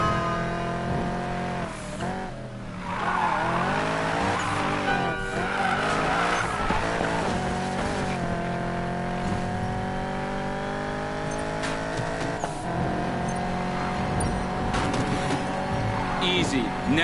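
Race car engines revving and tires squealing in Need for Speed, loud sustained engine tones rising and falling with skids, under talk throughout.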